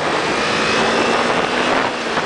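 Motorcycle pulling away in second gear on a road, a loud continuous engine roar blended with heavy wind rush, steady and close with no talk.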